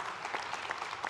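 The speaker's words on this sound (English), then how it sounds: "Round of applause for them." An audience at a parenting conference claps in a steady, moderately loud burst of applause filling a hall.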